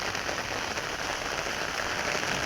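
Steady rain pours outdoors over a waterlogged area, a dense, even hiss of drops striking water and hard surfaces, continuous and close with no voices.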